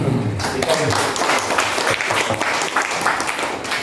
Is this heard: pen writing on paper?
no